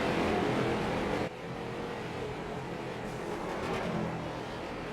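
A race car engine fails during a figure 8 endurance race, heard as a loud, steady roar of motor noise that drops abruptly in level after about a second and then carries on, without speech.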